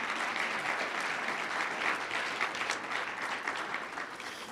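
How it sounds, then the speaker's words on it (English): Audience applauding city councilors at a civic gathering, a dense, sustained round of clapping from many hands that holds steady and starts to taper near the end. "let's give the city councilors a round of applause"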